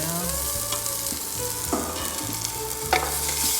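Red lentil penne being stirred around a hot pan, a steady soft scraping and shuffling over a low sizzle, with a few sharper clicks of the utensil against the pan.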